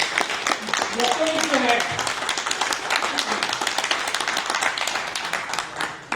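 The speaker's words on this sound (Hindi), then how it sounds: "तालियां तो बजाओ उनके लिए।" A crowd claps at a spiritual talk, steady applause spread across the clip with a voice talking over it throughout.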